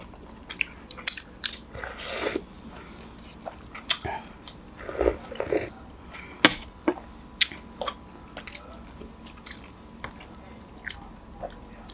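Someone chews herbal boiled chicken with bones, with close, wet crunches and bites repeating irregularly throughout.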